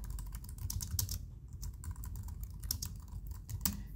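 Steady typing on a computer keyboard, quick irregular key clicks with a few louder taps, close and fairly quiet, with no voices over it.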